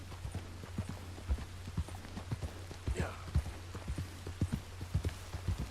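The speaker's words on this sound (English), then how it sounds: "you're just riding your horse for 10 minutes" Steady clip-clop of horse hooves in a regular walking rhythm from riding in Red Dead Redemption II, close and clear, with a low constant hum underneath.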